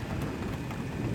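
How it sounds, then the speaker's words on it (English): Steady rain hisses continuously during a thunderstorm with a low rumbling undertone like distant thunder, no voices present. "The rain is starting to get a little heavier now"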